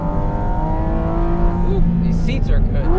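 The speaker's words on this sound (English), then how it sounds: "How unbelievable is the metallic rasp that happens between 8 and 9?" Porsche Cayman GT4 RS flat-six engine revving hard toward its upper range, a loud sustained metallic rasp with rising harmonics, heard close from inside the car, ending in a brief higher-pitched flutter as revs climb.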